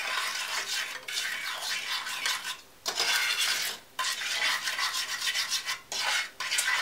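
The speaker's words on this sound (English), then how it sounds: "We're going to stir it and mix it so that way it doesn't burn." A spoon scrapes and stirs a melting chocolate mixture in a pot for gluten-free brownies, a steady rasping, clinking rhythm in repeated strokes with brief pauses, close and fairly loud with no talking.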